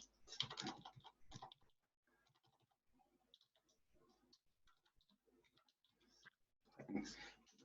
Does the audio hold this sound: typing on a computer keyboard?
yes